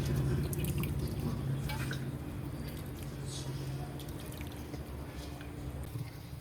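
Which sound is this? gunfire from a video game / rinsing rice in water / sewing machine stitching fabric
rinsing rice in water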